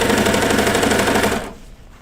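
A sewing machine runs steadily while stitching a child's pajama pants, a fast dense whir that stops abruptly near the end, leaving quiet room tone.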